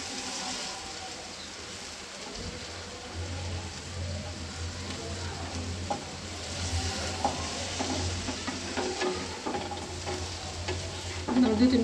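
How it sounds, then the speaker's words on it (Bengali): Small chapila fish frying with onions in a pan, a continuous close sizzle with occasional stirring scrapes and clinks throughout. "মাছগুলোকে ভালো করে পেঁয়াজের সাথে ভাজবো"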